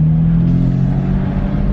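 A BMW F80 M3 cruises with a steady, close engine drone and low rumble, holding an even tone throughout with no talk.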